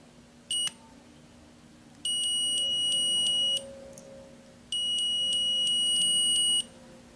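Continuity beeps from a multimeter probing a shorted MOSFET on an Nvidia GeForce 9400 GT 512 MB graphics card under repair: a brief chirp, then two long steady tones, close and clear with no talking.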